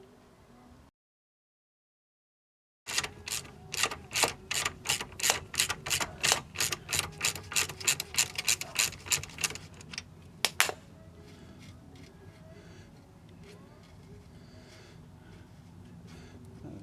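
A ratchet wrench undoes the drive shaft nut on a Citroen Saxo raised on an axle stand with the wheels off, giving a fast run of close, sharp ratcheting clicks for several seconds, then a couple of louder clacks and quiet.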